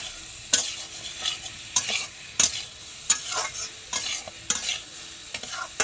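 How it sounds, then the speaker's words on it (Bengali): Pointed gourd (potol) slices with salt are stirred in a hot frying pan, giving a low sizzle under repeated sharp scraping strokes of a spatula about once every half second, close up and without speech. "দিয়ে ভালো করে মিশিয়ে নাড়তে থাকবো।"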